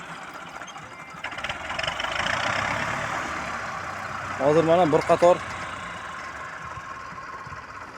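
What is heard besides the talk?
tractor engine running a mower during a test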